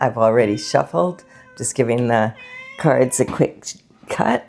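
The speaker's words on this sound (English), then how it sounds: "That's my cat" A pet cat meows a few times in the background while someone talks steadily over it during a card reading.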